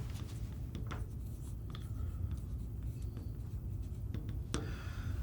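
Chalk or marker writing on a board in a refrigeration-cycle engineering lecture, a steady series of faint scratchy strokes and taps over a constant low room hum, with no talking.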